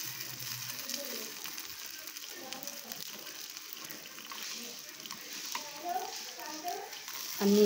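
Gunta ponganalu batter fries in oil in a paniyaram pan, a gentle hissing sizzle running throughout with soft clinks, while a voice talks over it.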